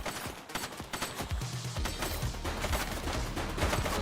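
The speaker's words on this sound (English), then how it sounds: "He's shooting!" Rapid bursts of gunfire in a police shootout in The Precinct video game, many sharp cracks overlapping in a dense fusillade, loud and continuous over a low rumble, with no talk over it.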